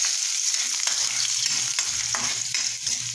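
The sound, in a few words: sautéing tomatoes in hotdog frying oil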